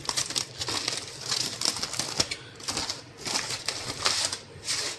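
Packaged loaves of bread being opened in a home kitchen, the plastic wrapper crinkling and rustling in continuous close bursts with sharp crackles throughout.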